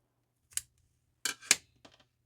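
A few sharp snips of scissors cutting off a crochet yarn tail, close and quiet, spaced out with short gaps, no talking.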